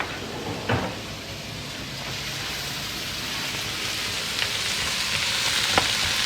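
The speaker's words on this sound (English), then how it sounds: "I'm going to stir that until the onions are translucent and the potatoes a little softened" Diced onions and potatoes being stirred as they fry in a pan: a continuous crackling sizzle with a few light knocks of the spoon, fairly close and with no talking.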